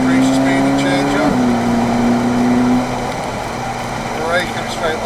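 A supercar on the Three Sisters Race Track in Wigan pulls hard, its engine note climbing before a sudden drop at a gear change, then pulling on steadily. A driving instructor talks over the close, loud engine.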